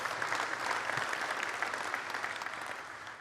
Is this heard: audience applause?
yes